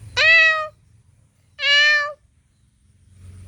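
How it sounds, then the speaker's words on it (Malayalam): A cat kept in a cage lets out two loud, clear meows close by, spaced about a second apart, with quiet between them. "ഇതാട്ടോ ആ പൂച്ച."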